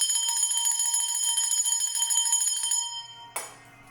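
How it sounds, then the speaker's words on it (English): A bell is struck once and rings loud and close, its bright, sustained tone holding for nearly three seconds before it cuts off. A soft knock follows in a quiet room. "I'm going to ring the bell again to scatter away any dark energies."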